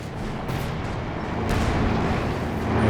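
Panzerwerfer rocket artillery barrage in Company of Heroes 2, a continuous dense rumble of launches and distant blasts that builds slightly louder over the span.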